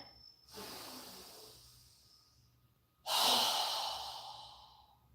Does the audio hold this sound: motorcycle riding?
no